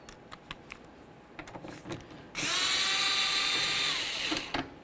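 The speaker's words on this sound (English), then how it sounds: "you'd use a socket that looks just like this. It looks like a star. It's a Torx bit." A power drill fitted with a T30 Torx bit backs out a bolt holding the rear exterior door handle on a 1999-2007 Chevy Silverado, a loud steady whirring burst of about two seconds after faint clicks, with no talking.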